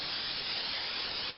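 A short, steady hiss of cooking spray into a pan lasts just over a second, close and even, then cuts off abruptly.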